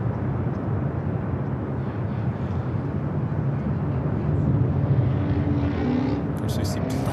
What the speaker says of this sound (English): the United 767-400ER taking off 25 at right